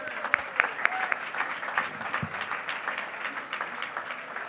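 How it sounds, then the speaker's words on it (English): Audience applause at the OneEleven grand opening, a steady wash of clapping from a crowd that stays even throughout, with a few sharper individual claps near the start. "Can we have a round of applause?"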